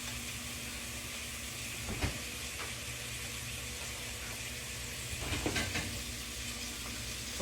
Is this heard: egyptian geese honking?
no